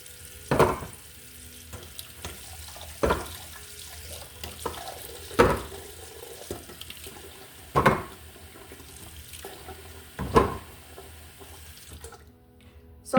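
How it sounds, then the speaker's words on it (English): Tops of canned goods rinsed under a running kitchen tap, a steady rush of water broken by several sharp clunks and knocks of the cans, roughly every two to three seconds, close by and with no talking. "Wash the top off of them."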